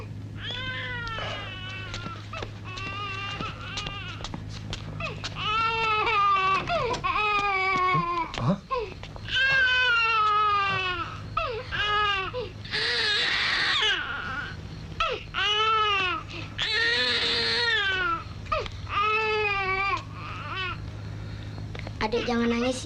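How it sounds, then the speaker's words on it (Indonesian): Infant crying outside in front of a house in a 1984 Indonesian horror film scene: sustained, wavering high wails with short breaths between, fairly close and continuous, with no talk over it. "Kami mendengar suara tangis bayi di muka rumah."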